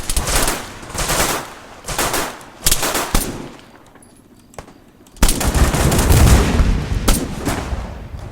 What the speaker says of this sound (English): Supra's sniping the targets out.